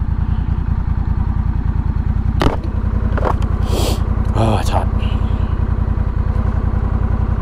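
Honda Rebel 1100 motorcycle fitted with a Coffman's Shorty exhaust and a free-flow air filter, its engine idling close by in a steady, even rumble throughout, with a few brief spoken words over it.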